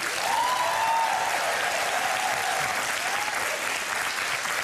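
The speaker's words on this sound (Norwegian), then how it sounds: "En stor applaus!" An audience at a cooking show applauds a well-known Pakistani chef and his interpreter, a dense, even wash of clapping that carries on steadily for several seconds with faint voices mixed in.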